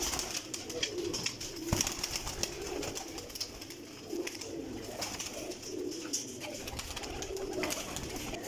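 Pigeons of a champion breeding stock coo repeatedly in soft, rolling calls, close by and moderately quiet, layered over faint clatter and background rustling.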